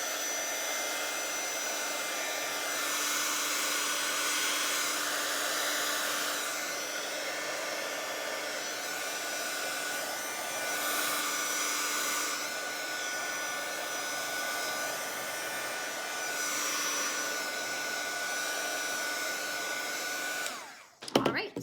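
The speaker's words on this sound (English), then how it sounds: "Then I take my heat gun and just sort of play around with pushing the inks in a direction." A heat gun blows hot air over pools of alcohol ink in a loud, continuous close whoosh. The airflow wavers slightly in strength and cuts off abruptly at the end.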